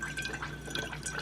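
A coffee maker drips and trickles steadily while brewing, a close, continuous wet patter with no voices.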